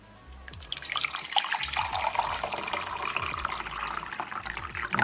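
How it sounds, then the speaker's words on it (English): Tap water runs into a measuring cup for preparing umami chicken shio ramen, a steady close splashing stream that starts abruptly and continues throughout with rising, bubbly filling tones. "Add 2 cups of water."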